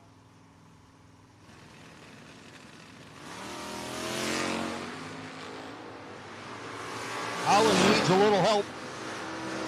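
Drag race cars launching at a No-Box 660 shootout, among them a 1979 Chevrolet Camaro, engines building into a loud revving roar with a sharp high-revving burst near the end, under a track announcer's commentary.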